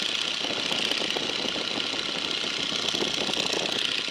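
Radial engine of a Stearman PT-17 biplane held at reduced power around 1800 RPM, a steady loud droning hum with a dense, even texture filling the whole stretch, close up from the cockpit.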